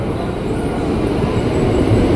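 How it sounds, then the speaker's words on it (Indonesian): Steady low rumble of a 12-car commuter train bound for Bogor standing at platform 11 of Manggarai station, a continuous close drone of rail equipment. "Di jalur 11 udah ada komuter lain tujuan Bogor."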